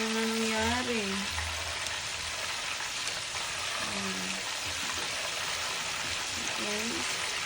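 Chicken fries in a pan with a loud, continuous hiss and crackle, while brief voices speak over it now and then.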